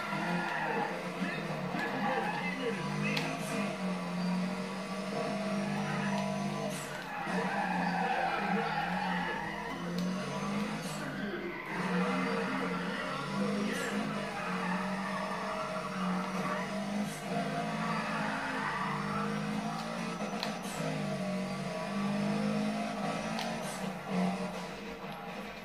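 Race car tyres skidding and squealing in Need for Speed ProStreet, a long wavering screech with engine drone running under it throughout.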